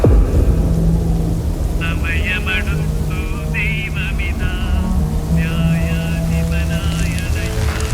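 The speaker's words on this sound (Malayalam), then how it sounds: "മഴ വരുന്നുണ്ടില്ലേ?" Heavy rain pours with thunder rumbling low and loud, while high tonal sounds come and go over the steady downpour.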